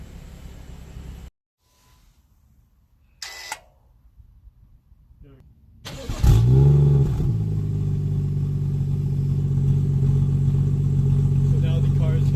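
A BMW's engine starts and settles into a steady low idle drone with its JB4-controlled exhaust valve held closed, after clicks and a short mechanical rattle, close and fairly loud with a muffled tone.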